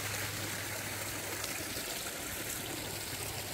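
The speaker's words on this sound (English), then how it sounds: "the sound of that water will mesmerize you." Water flows gently into a garden pond, a soft, steady trickling and babbling that stays faint and unbroken throughout.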